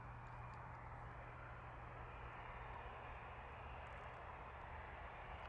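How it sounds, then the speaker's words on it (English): An EasyJet Airbus A320-214 arriving at Bristol Airport, heard as a steady, broad engine roar with no change in level, distant and fairly faint. "Lovely arrival from the EasyJet A320."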